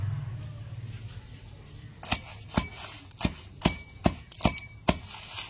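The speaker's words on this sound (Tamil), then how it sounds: "இப்போ வந்து முதல்ல சாறு எடுத்துக்கலாம் இடிச்சு" Ajwain (omam) leaves are pounded to press out their juice, giving eight sharp, evenly spaced thuds close by after a quiet opening with a low hum.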